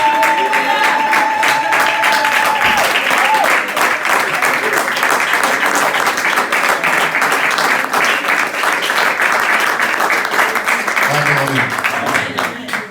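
A church congregation at a Sunday service applauds, loud, dense, steady clapping that fills the room for the whole stretch, with voices faintly mixed in underneath.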